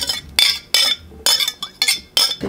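Boiled peanuts, celery and carrot are mixed in a bowl, with about six sharp, rhythmic bursts of a utensil scraping and clinking against the dish, close up, with brief pauses between strokes.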